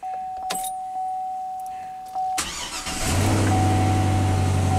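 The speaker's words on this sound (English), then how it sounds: "So it started up that time and it stalled out." A Chevy truck's starter chimes and key clicks come first, then the engine cranks and catches into a loud steady idle close to the microphone, with no voices.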